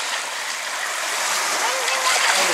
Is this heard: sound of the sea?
yes